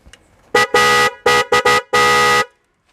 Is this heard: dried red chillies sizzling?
no